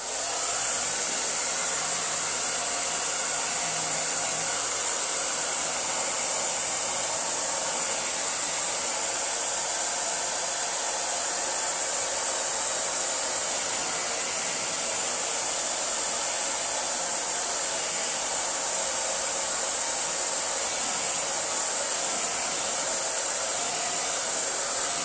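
A hair dryer blows steadily on a painting, a loud, continuous hiss that runs without pause from start to finish, close to the listener.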